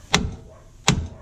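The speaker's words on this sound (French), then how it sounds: "je laisse l'écrou dessus et je mets un coup de marteau là" Two sharp metallic hammer blows strike a nut threaded onto a bolt during clutch and hydraulic release bearing replacement on a Dacia Duster, spaced under a second apart, close and loud with a brief ring after each.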